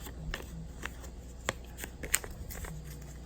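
A paper dollar bill being folded by hand into an origami butterfly, giving soft crinkles and a few sharper creasing snaps, close and fairly quiet with no talk.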